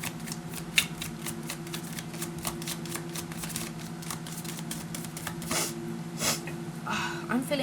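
Tarot cards from the Wild Unknown deck are shuffled steadily in a soft, continuous riffling patter, with a low steady hum and some faint vocal sounds underneath.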